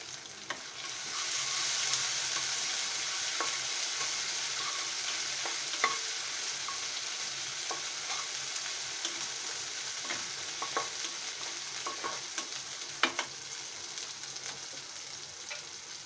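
Spiny gourd (kakrol) frying in a pan, a steady continuous sizzle throughout with occasional faint clicks and stirring scrapes, no voices.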